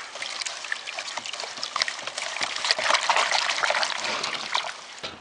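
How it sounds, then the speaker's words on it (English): Onions swished and rinsed in a pail of water after a cold-night garden harvest, giving close, continuous trickling, dribbling and splashing with irregular sloshes, no voices. "I'm just going to rinse them in this pail of water first"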